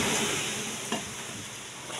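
Masala being stirred in a hot pan, a steady broadband sizzle throughout with one brief scrape of the spoon near the middle, close and fairly loud with no talking.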